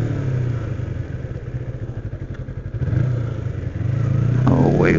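A 2007 Kawasaki Ninja 250 motorcycle climbs a hill at 65 mph, its engine droning loud and close with a pulsing, buzzy rhythm, then shifting and rising in pitch as it pulls harder amid wind buffeting.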